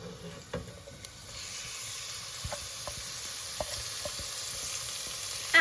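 Minced beef frying in a pan with vegetables for a Bolognese ragù: a steady soft sizzle and hiss, with occasional light taps and scrapes of stirring, fairly quiet and without talk.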